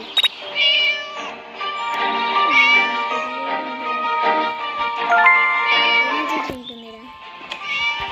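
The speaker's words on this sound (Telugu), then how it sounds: "పిల్లి" A cat meows repeatedly in long, drawn-out cries close by, with a person talking briefly and a faint tinkling sound.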